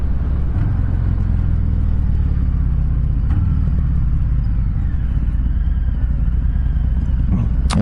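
A 2020 Harley-Davidson Softail Fat Boy 114 riding out toward the freeway, a loud, steady low engine rumble mixed with wind roar, continuous and close.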